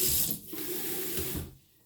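A small amount of water running from a tap into a pot of vegetables seasoned with pepper and salt, a steady hissing stream that stops abruptly near the end, with no talk.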